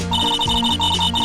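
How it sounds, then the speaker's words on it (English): A cell phone rings inside the Phoenix Wright: Ace Attorney video game, a bright electronic ringtone pulsing in steady repeated bursts over low background music, loud and close with no talking. "This looks like a cell phone."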